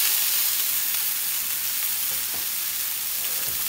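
Omaha-cut ribeye steaks, one seasoned with salt and pepper, sizzle steadily in a hot pan, a dense, even frying hiss that holds at a constant level throughout with no talking.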